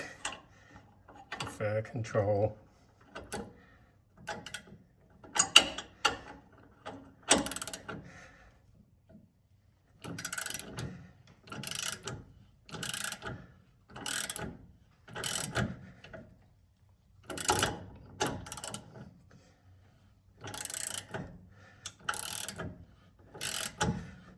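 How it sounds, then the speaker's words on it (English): A ratchet turns a 19mm bolt on the track bar of a 2006 Jeep Wrangler TJ, clicking in short rhythmic bursts with brief pauses between strokes, close and fairly quiet, with someone speaking at the start. "19mm bolt and just get my ratchet on it"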